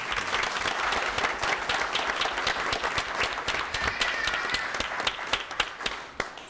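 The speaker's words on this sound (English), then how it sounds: "these ladies deserve a round of applause" A school board meeting audience breaks into applause, a roomful of hands clapping steadily with distinct sharp claps standing out near the mic, thinning slightly toward the end.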